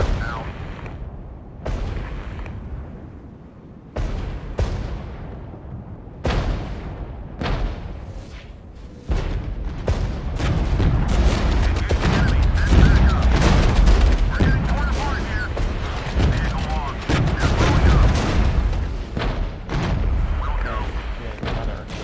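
Artillery fire in the video game Regiments: heavy booms arrive one at a time at irregular gaps, then merge into a dense, continuous roar of battle with overlapping blasts. Faint voices can be heard underneath.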